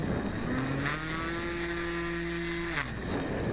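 An RC Robo Trike microlight's electric motor holds a steady whining drone in flight, with harmonic tones climbing at about half a second, staying level, then dropping near three seconds. It sounds continuous and moderately loud, with no voices.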